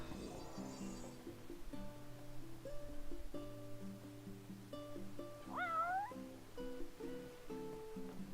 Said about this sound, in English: I'm gonna feed the kitty.